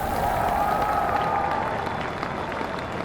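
A crowd cheers and applauds on a freezing night below a low-flying airmail plane, a dense, steady wash of clapping and roaring voices with no breaks.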